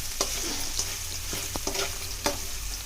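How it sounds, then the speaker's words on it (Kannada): A ladle stirs sabudana khichdi frying in a pan, with several sharp metallic scrapes and clinks over a constant close sizzle. "ಫ್ರೈ ಮಾಡಿ, ಸೌಟಿಂದ ಸ್ವಲ್ಪ ಎಲ್ಲ ತಿರುಗಾಡಿ"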